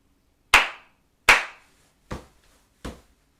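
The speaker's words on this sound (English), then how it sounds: "We will play rhythms while clapping and stomping." Four crisp, evenly spaced claps ring out alone in a quiet room during a rhythm lesson, the first two loud and the last two a little softer, each with a brief dull thump beneath.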